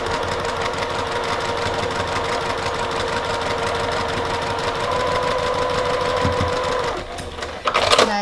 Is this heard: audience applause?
no